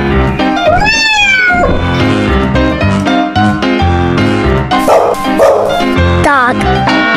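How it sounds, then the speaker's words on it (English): A dog barks and yips a few times over bright, busy background music, with a meowing cat mixed in close by. "Dog."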